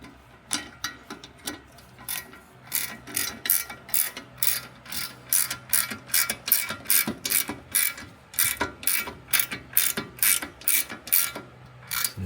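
Rapid ratchet wrench clicking in repeated bursts while bolts are tightened on the new suspension of a Mercedes 300E 3.4 AMG, close and steady with a faint hum underneath.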